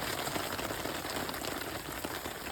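Rain patters steadily on an umbrella rigged over a charcoal grill where salmon is cooking, a dense, even hiss of drops at moderate volume with no voices.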